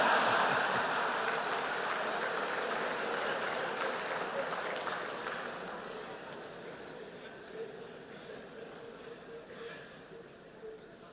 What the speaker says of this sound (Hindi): आया हूं इसकी ताली बजा रहे हो।